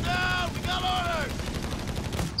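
Machine gun fire in a Company of Heroes 3 battle, a steady stream of rapid shots under continuous game noise, with whistling tones sweeping through and a sharp burst at the very end.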